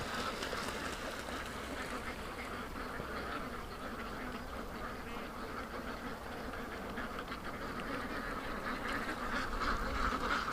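Ducks quacking in alarm at a swimming predator, a busy chorus of fairly faint, rapid quacks over a steady outdoor background, growing a little louder toward the end.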